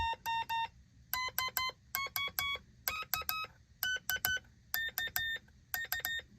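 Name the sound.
Morse code oscillator beeps, adjusting tone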